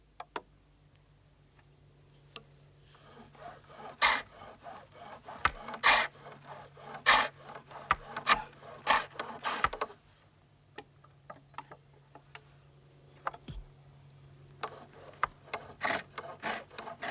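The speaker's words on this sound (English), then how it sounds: "a broad, flat-bladed chisel is used to produce a smooth finish" A broad, flat-bladed chisel scrapes and taps across wood in a steady series of short, crisp strokes, close and fairly quiet, pausing briefly midway before resuming.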